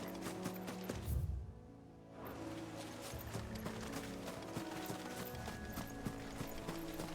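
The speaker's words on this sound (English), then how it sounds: "Torgo, your footsteps are too loud" Heavy footsteps of Torgal, a large wolf companion in Final Fantasy XVI, thudding in a steady clip-clop rhythm over mechanical in-game ambience, with one louder burst of impacts early on.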